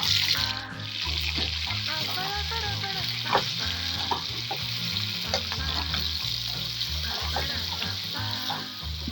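Chopped onion, capsicum and tomato fry in oil in a pan for Kerala chilli chicken, producing a dense, steady sizzle with stirring clatter and faint tonal sounds in the background, close and continuous.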